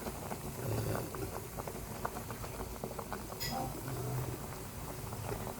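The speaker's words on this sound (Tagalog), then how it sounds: "Ito, kumulo na po siya." Sambong tea boiling in a pot on the stove, a soft continuous bubbling and pattering simmer that carries on steadily throughout at low volume.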